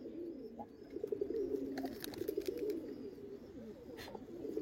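Khaki breed pigeons coo steadily in a loft, soft low rolling calls overlapping one another at close range, with faint chirps and rustles in the background.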